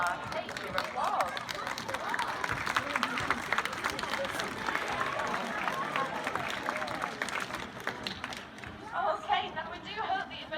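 Audience applause and cheering at a sea lion show, a broad steady wash of clapping and crowd chatter lasting the whole stretch, with a few brighter bursts near the end.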